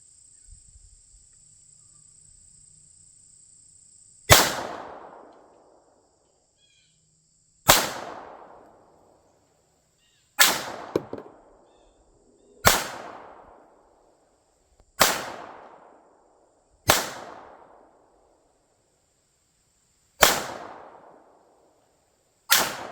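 Ruger Security pistol firing eight single shots at uneven intervals of a few seconds, each a sharp loud crack with a brief decaying echo, outdoors with near silence between.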